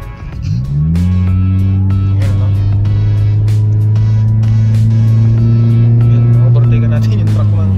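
A Toyota Vios 1.3 accelerates hard to overtake a truck on a highway, its engine rising and then holding a loud, steady drone from inside the cabin, with road noise and light ticks throughout.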